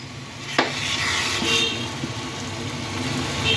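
Raw mango thokku sautéing in a pan, a steady sizzling hiss with scraping stirs, including a sharp clink near the start, continuous and close throughout.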